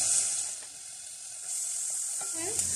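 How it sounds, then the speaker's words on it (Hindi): Onions sautéing in hot oil in a saucepan for a potato samosa filling give a steady, close sizzle throughout, with light stirring scrapes near the end. "जैसे ही ये ऑयल गर्म होता है तो इसके अंदर जो प्याज हमारे पास है ये प्याज डाल देंगे और प्याज को इसमें हल्का सा सौते करेंगे"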